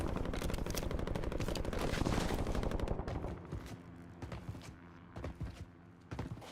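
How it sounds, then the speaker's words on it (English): Automatic gunfire in Call of Duty: Warzone rattles in a dense, rapid stream for about three seconds, then breaks into scattered single shots and short bursts. "My bounty's shooting at him."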